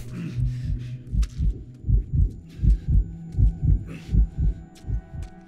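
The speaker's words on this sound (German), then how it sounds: "Wenn man seinen eigenen Herzschlag hört, verheißt es in der Regel auch nichts Gutes, oder?" Game heartbeat in The Last of Us Remastered thumping in a steady double-beat rhythm, low and loud, with faint background ambience and brief sharp noises over it.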